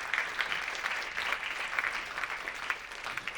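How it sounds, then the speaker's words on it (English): A crowd at a civil rights candidate forum claps steadily for a few seconds, a dense crackling applause at moderate distance with no talking over it. "give a round of applause."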